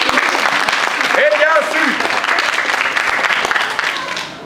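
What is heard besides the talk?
audience applauding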